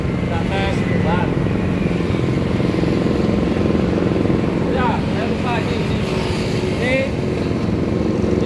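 A TCA 5000-watt inverter generator runs at low idle, giving a steady, fairly loud engine drone throughout while people talk over it.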